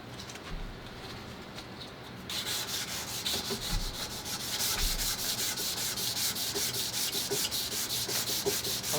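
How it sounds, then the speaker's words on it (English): Sandpaper wrapped around a stick rubs with the grain along a wooden stock of a Ruger 44 carbine during refinishing, a steady close scratchy rasp in continuous back-and-forth strokes, growing busier and louder after the first couple of seconds. "Always sanding with the grain."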